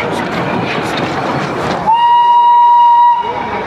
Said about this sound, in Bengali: সবেমাত্র একটা টয় ট্রেনের আওয়াজ পেয়েছি, ভাগ্য যদি ভালো থাকে তাহলে টয় ট্রেনটা খুব সম্ভব এক্ষুনি ক্রস দেবে এখান থেকে।